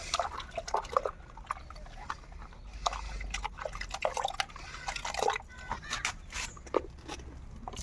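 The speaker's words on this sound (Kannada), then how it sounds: "ಈಗ ಹಾಕಿ ಚೆನ್ನಾಗಿ ಕಲಿಸಬೇಕು" Pesticide being stirred into water for spraying jasmine plants, close sloshing and dripping splashes in irregular bursts over a light outdoor background.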